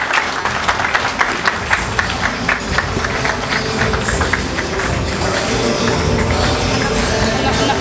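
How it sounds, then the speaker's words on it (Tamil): An audience at an HRTC 2024 event in Thenkasi claps to cheer as someone is called to the stage, with crisp applause at first that thins into a murmuring crowd hubbub. "கைத்தட்டி உற்சாகப்படுத்துவோம்."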